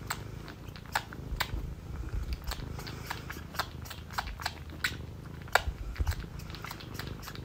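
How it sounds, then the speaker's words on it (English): A cat suckles and chews on a person's ear: wet, crackly smacking and clicking bites at very close range, with a soft purr underneath and no talking. "I found a cat that loves sucking on this person's ear."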